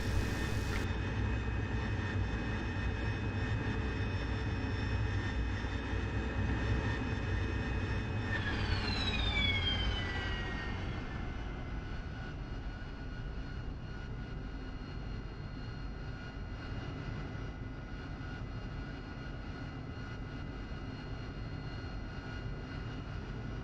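A Harrier jet in a flight-sim game whines continuously with high turbine tones that sweep downward partway through, then settle into a steadier, lower engine drone, with no speech.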